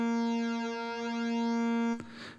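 An Ensoniq EPS-16 Plus sampler wave through a phase reverb effect: a sustained, buzzy synth-like tone with a rich, shimmering, swirling character, holding steady for about two seconds before cutting off into a brief noisy tail.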